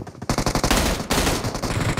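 Rapid automatic gunfire crackles through a PUBG Mobile match on a desert map, loud and dense bursts of shots running almost continuously with brief gaps, no voices over it.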